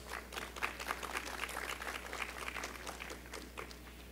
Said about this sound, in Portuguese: Romina Miranda, recebendo uma salva de palmas.